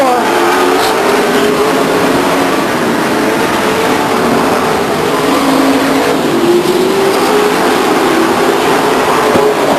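Race cars at Stockton 99 Speedway in 1999 roar loudly and continuously through a turn, their overlapping engine drones rising and falling in pitch as the pack runs bumper to bumper.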